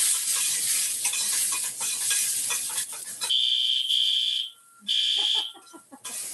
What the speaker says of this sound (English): Setting off the fire alarm.